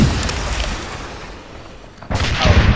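Weapon fire on command in ARMA 3: a loud boom with a long rumbling decay, followed about two seconds later by a second heavy blast or impact that stays loud.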